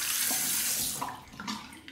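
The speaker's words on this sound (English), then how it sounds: "Gonna warm it up under the hot water." Hot water runs from a tap into a ceramic shave bowl, a steady close splashing rush that shifts slightly in tone as the bowl fills.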